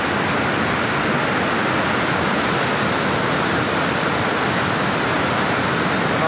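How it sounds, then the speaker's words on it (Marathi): A flooded river in full spate, a continuous loud roar of rushing, churning water like a waterfall, steady and close with no voices. "हा प्रचंड प्रमाणात पूर आलेला आहे"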